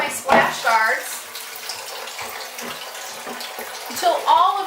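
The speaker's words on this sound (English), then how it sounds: "grab a sponge and wipe down my splash guards" A wet sponge wipes clay off the splash guards of a potter's wheel, making soft, sloshing, watery rubbing that continues steadily up close, with a voice talking over it at the start and end.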